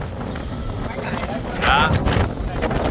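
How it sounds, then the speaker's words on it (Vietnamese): Strong wind on the beach at Vũng Tàu buffets the microphone in a steady roar that surges halfway through, while people talk over it. "Các bạn nghe tiếng gió không?"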